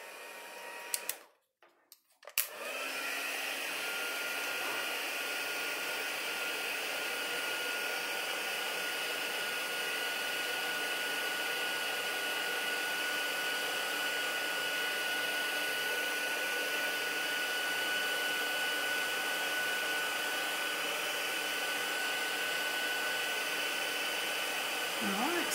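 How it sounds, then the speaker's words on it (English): A heat tool runs loud and steady for the full length, a continuous blowing whine as it melts embossing powder on a snowman easel card, after a brief click and pause at the start while it switches on. "So I'm gonna get my heat tool out, excuse the noise"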